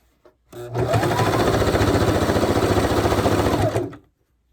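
A sewing machine stitches ribbon onto a skirt in one steady, loud, continuous run of rapid needle clatter and motor hum lasting about three seconds, starting and stopping abruptly.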